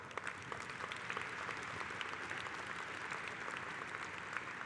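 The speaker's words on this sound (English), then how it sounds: "Let's give everyone that volunteered a round of applause." A large convention audience at a union gathering applauds its volunteers, a dense, even roar of many hands clapping that stays steady and somewhat distant for the whole stretch.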